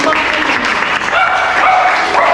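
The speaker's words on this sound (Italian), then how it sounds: "Quindi facciamo un applauso." Audience at an Italian book presentation breaks into applause, a dense, steady wash of clapping heard up close for a couple of seconds, with some mixed noise in the room.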